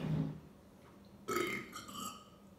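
A deep, drawn-out human burp from a couple doing a burping challenge with fizzy drinks, rumbling briefly at first and then swelling into a louder, longer belch near the end.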